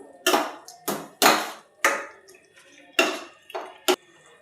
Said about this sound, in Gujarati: આપણે એમાં થોડુંક પાણી એડ કરશું